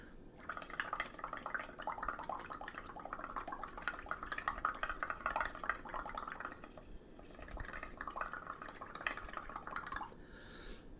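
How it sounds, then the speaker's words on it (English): Air is blown through a straw into a cup of bubble mixture, making a continuous close bubbling, gurgling froth that swells and eases for several seconds before stopping. "I'm going to take my straw, put it in the bubble mixer, and I'm going to blow into it"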